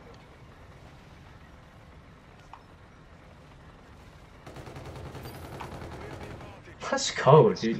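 Gunfire in a Search and Destroy video game match on the Scorch map, starting as faint scattered shots and building into a louder burst of rapid fire near the end, with someone briefly talking over it.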